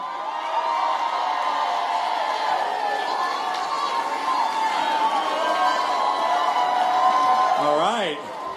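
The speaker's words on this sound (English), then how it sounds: "good to see a nice crowd, an excited crowd" An excited crowd at a climate change rally in Miami cheers and shouts in a sustained, dense wall of voices that swells toward the end, with whoops rising above the mass of cheering.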